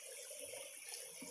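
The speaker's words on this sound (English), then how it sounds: "shooting the really pretty creek sounds from above here on the bank" A creek flowing below a muddy bank after rain, a faint continuous rushing wash of water heard from above, steady and without voices.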